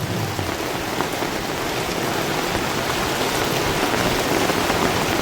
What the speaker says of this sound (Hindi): कैसा बरसात है